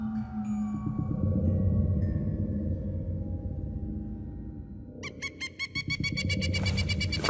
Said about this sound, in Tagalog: nagising na lamang ako nang may marinig na kakaibang huni ng ibon